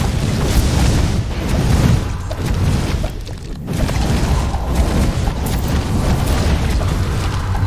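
Dense, continuous fire explosions and bursts from the action game Death Must Die, loud booms and pops layered over a steady noisy rumble with a brief dip midway, no voices.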